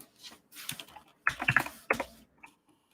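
Computer keyboard keys clatter in a few quick bursts of typing separated by short pauses, close and moderately loud, with no voices during it.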